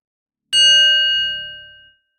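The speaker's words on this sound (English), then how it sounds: "Let's begin with a bell." One bell strike with a bright, ringing tone that sustains and fades over about a second and a half, clear and close, with no other sound.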